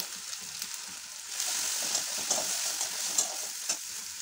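Prawns fry and get stirred in a pan with ginger paste and turmeric for a Bengali prawn and long bean dish, giving a steady close sizzle that grows louder midway, with scraping stir strokes and small spatters.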